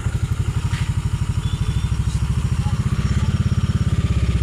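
A Yamaha Aerox 155 scooter runs after repair of a faulty ignition coil. The engine is loud and close, idling with an even, rapid thudding pulse that holds steady throughout.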